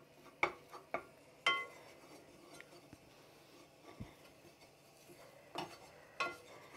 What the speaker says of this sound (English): add the flour to the butter and let the flour cook out for a little while